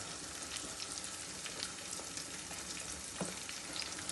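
Spices frying in hot oil for dhaba-style chana dal, a dense continuous crackling sizzle that holds steady for a few seconds, close and fairly quiet with no voices.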